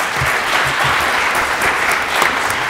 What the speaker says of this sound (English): I think we will give them a round of applause for this excellent,